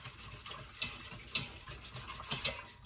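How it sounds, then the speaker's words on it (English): A whisk beating a yogurt mixture in a bowl, making quick light scraping swishes with several sharper taps against the bowl's side, close and fairly quiet. "we're just going to whisk and whisk and whisk this till it's really mixed in well"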